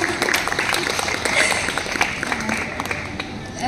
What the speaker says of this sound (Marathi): या उत्तरासाठी जरा एकदा टाळ्या होत्या